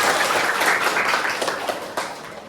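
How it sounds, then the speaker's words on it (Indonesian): Pupils in a sixth-grade classroom clap together in a lively, close burst of many small hands, loud at first and gradually tapering off, with no talking. "Tepuk tangan untuk Alvaro."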